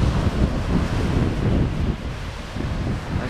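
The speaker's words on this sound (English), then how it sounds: "Here's a real nice wave breaking right there." Ocean waves break on an Outer Banks beach, a steady full roar of surf washing in close by, with strong wind buffeting throughout and no voices.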